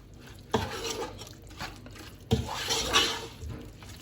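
Salt and chili powder are mixed into chicken biryani in a pot, with a spoon scraping and knocking against the metal in a few close, uneven strokes, no voices.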